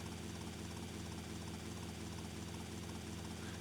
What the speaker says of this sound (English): The smaller helicopter is a little bit easier to land here.